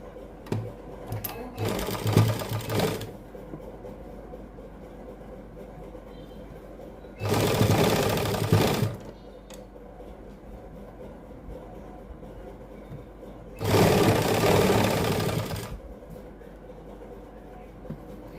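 A sewing machine stitches lace onto a sleeve strip for a suit sleeve design, running in three short, loud, whirring bursts separated by quieter pauses with faint handling sounds.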